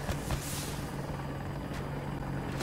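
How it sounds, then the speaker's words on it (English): An enemy helicopter in the video game Battlefield 2042 drones with a steady rotor roar under other battle noise, moderately loud and continuous throughout, without clear speech. "Enemy chopper."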